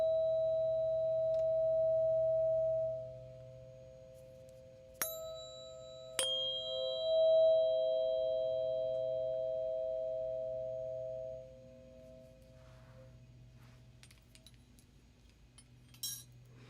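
Sound bath for relaxation, with soft sustained singing-bowl tones humming underneath, two sharp metallic chime strikes ringing out partway through, and a faint shimmer of light chimes near the end, all gentle and unhurried without speech.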